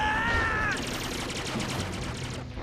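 Vulcan cannons in the Gundam anime fire a rapid burst of repeated shots after a rising high electronic whine, loud and close, then trail off at the end.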